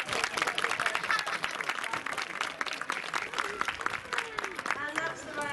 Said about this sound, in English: both me and Merlin love to hear the sound of clapping.